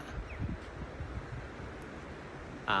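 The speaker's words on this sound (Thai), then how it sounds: "มีคลื่นนะครับ มีลมแรงด้วย" Strong wind buffeting the microphone at Suan Son Pradiphat beach in Hua Hin, a steady rushing roar with low rumbling that may hide the sea waves, plus a sudden bump at the end.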